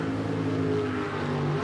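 A jet sprint boat engine roars steadily and loudly through a racing run at a jetsprint championship in Wanganui, heard alone without talk.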